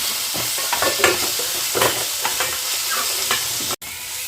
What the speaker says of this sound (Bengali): কালারের জন্য এখানে কাশ্মীরি লঙ্কা দিয়ে দিলাম দিয়ে মশলাটাকে এবার ভালো করে ভেজে নিতে হবে